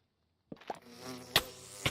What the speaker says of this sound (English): I'm probably going to make these bees super angry.